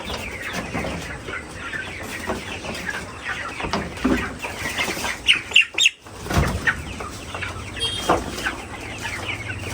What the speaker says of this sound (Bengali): মেলা মুরগি